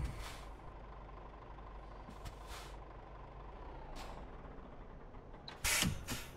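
A truck in Euro Truck Simulator 2, hauling a food tanker trailer, idles quietly while parking. Several sharp air-brake hisses break through, and the last one is the loudest.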